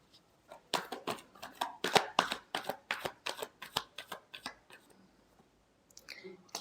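Tarot cards being shuffled by hand, a series of crisp, rhythmic riffling slaps and flicks at close range, about a dozen quick bursts that fade out near the end, with no talk over them.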